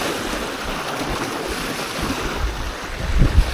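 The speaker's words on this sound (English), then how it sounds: "Here comes some big waves." Big waves washing in on a lake shore where someone is fishing for yellowbelly, a loud steady roar of surf mixed with wind buffeting the microphone, swelling into a heavier rush at the end.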